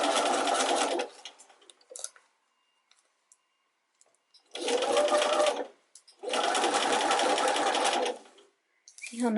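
A sewing machine hems fabric with a narrow hemmer foot in three loud bursts of rapid stitching, the first short and the later two longer, separated by near-silent pauses with faint clicks.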